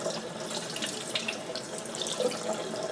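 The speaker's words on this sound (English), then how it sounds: "that's what I did, a quick little rinse." Tap water running steadily into a kitchen sink while a whole raw chicken is rinsed, a close, continuous splashing wash with shifting gurgles and drips.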